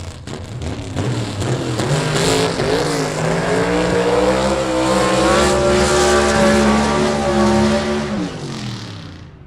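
A Rambler gasser drag car at a Southeast Gassers Association B/Gas eliminations event in South Georgia roars loudly nearby, its engine note climbing and wavering through the run before cutting off abruptly at the end.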